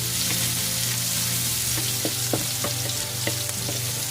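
Bay leaf, black pepper and chili sizzle loudly in hot oil for squid adobo, a dense steady frying hiss close by with occasional stirring clicks of a utensil against the pan.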